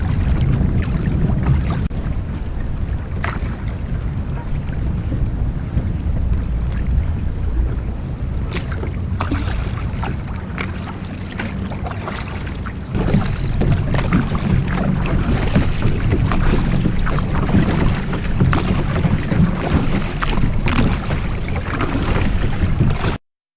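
Crescent LiteTackle kayak paddled on open water: repeated splashing paddle strokes and water lapping against the hull, with gusting wind buffeting the microphone throughout.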